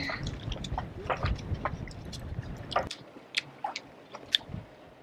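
Fresh coconut meat being chewed close up, wet squishy bites and soft crunches in an uneven rhythm, with no talk over it.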